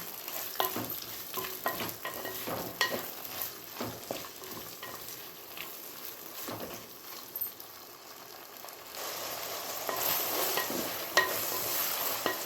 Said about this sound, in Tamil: இது நல்லா பொன்னிறமாக வதக்கிக்கலாம்